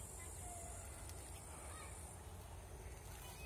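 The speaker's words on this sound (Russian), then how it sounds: "Где-то тут птичка." Crow cawing in a village garden, somewhere near fruit bushes such as cherry and currant, faint and distant over a steady low background rumble with no talk.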